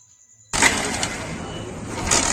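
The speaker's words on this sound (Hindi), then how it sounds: "तो मैं किक अप्लाई करता हूँ।" A Hero Splendor BS6 fuel-injected motorcycle is kick-started, giving a sudden loud broadband burst that settles into a steady, close engine-like rumble for about two seconds.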